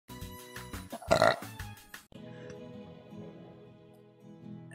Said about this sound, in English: I wonder if I can burp a song.